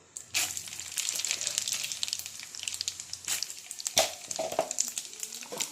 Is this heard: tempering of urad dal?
yes